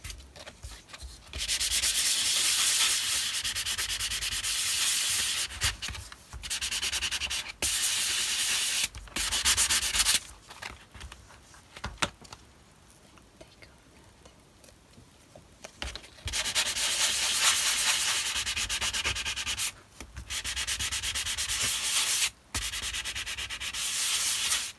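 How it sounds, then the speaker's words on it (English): A magazine page being sanded for a junk journal, long bursts of harsh, close scratchy rubbing that stop and start repeatedly with brief pauses and one longer quiet gap in the middle. "I should probably sand it"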